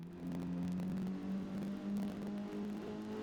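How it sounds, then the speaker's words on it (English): A car engine in the Forza Motorsport racing game drones steadily at sustained revs, with a slightly rough, buzzing tone, moderately loud and unbroken, with no talking. "Engine sounds a bit rough, doesn't it?"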